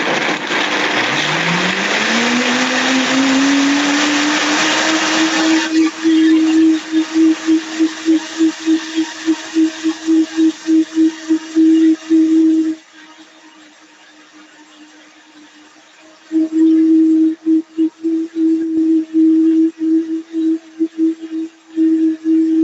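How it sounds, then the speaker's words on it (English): Blender spinning up to blend cashews with water, rising to a steady loud whir and then pulsing in rapid on-off bursts, with a short quieter stretch before the motor roars back in. "We just cover it and blend until it's really smooth and silky"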